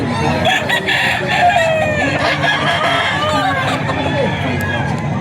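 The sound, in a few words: gamecock stag rooster crowing at a seller's farm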